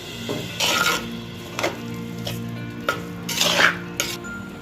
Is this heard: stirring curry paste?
yes